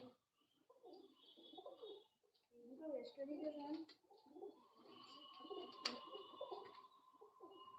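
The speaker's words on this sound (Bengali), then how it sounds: "এই দেখুন বন্ধুরা ফেন্সি কবুতর দেখুন" Fancy pigeons for sale coo softly in low, throaty bursts close by, with a few brief higher chirps and people talking in the background.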